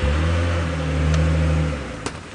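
A safari vehicle's engine revs hard and strains in a low, steady roar while the vehicle struggles to move forward, then the roar drops away near the end with a brief knock.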